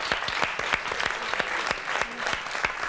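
A television studio audience claps during a French talk show, brisk, fairly close applause with distinct individual claps in a steady patter, lasting the whole stretch without speech over it.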